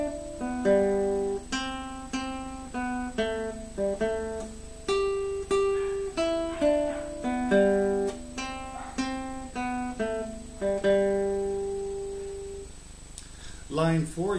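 A plucked nylon-string guitar plays a flowing single-note melody with alternating fingers, starting on the first string, at an even pace, notes ringing cleanly, ending with a few brighter strums.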